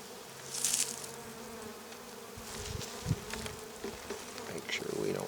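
Honey bees hum around an open beehive during a spring morning inspection, a close, continuous buzz with individual bees swelling louder as they pass near.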